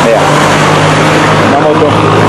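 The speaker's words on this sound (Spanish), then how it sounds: "vea, una moto" A motorcycle passes amid steady street traffic at a signal-controlled avenue, engine noise loud and constant, while someone talks over it.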